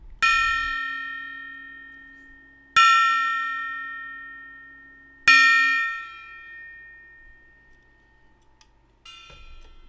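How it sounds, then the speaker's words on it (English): Gong struck three times at even intervals, each hit ringing out and decaying slowly, loud and close, with a fainter fourth strike at the end. "Yes, and I miss banging my gong for everybody."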